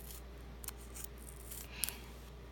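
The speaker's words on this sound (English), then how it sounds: "I'm going to cut this piece of foam tape here." Scissors snipping through thin foam tape for a card project make a few soft, quick close cuts over a faint steady background hum.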